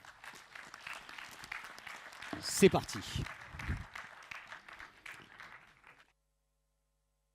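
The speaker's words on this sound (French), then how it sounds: "leur arrivée sur ce plateau devrait déchaîner un tonnerre d'applaudissements de votre part" Studio audience on a French television game show set breaks into broad applause, building to a loud peak midway then fading out, with a host speaking over the clapping.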